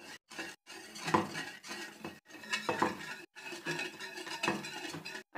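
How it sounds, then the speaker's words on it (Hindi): A spoon stirs an orange jelly mixture in a pan over a low flame, making steady repeated scraping and soft clinking strokes close by, with brief pauses between strokes. "मुसलसल आपने इसमें चम्मच या जिससे भी आप कर रहे हैं वो आपने हिलाना है"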